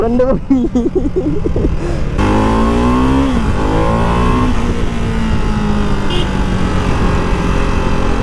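A Ducati single-cylinder motorcycle in sport mode revs hard and close, its engine note climbing and falling through several sharp sweeps before settling into a sustained loud drone.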